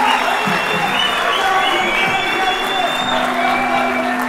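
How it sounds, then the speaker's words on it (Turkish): Audience at an album gala concert applauds and cheers steadily, a dense wash of clapping with crowd voices and a sustained musical tone underneath. "Kuvvetli alkışlarınızla şefimiz, yönetmenimiz Agah geliyor."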